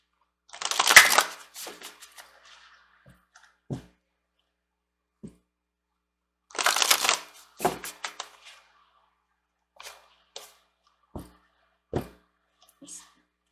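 Tarot cards shuffled by hand in two brief riffling bursts, followed by sparse soft taps and card placements in a quiet room.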